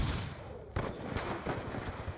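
A suppressed DSR-50 sniper rifle fires in Black Ops 2 gameplay, with a sharp muffled crack and a burst of rapid shots and game noise after it, all fairly quiet with no talking.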